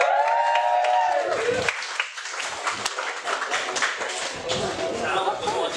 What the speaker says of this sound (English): let's give a round of applause for Michael